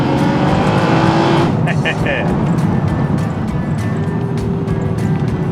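An Alfa Romeo GTV with the Busso V6 engine drops a gear and accelerates hard. The engine gives a loud, sustained roar heard close from inside the car throughout.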